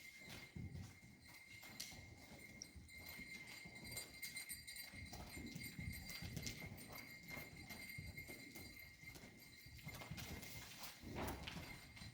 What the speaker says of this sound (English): most horses would have to trot to keep up with Red right now at the walk